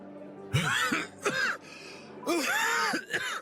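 A sick father coughs and clears his throat in several harsh, close bursts separated by short pauses, with no talking.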